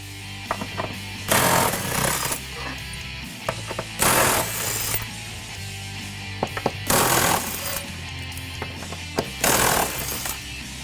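An impact wrench rattles in short bursts under a 2015-2023 Mustang GT while removing the transmission mount bolt, five loud, close hammering runs separated by quieter pauses with faint tool clinks.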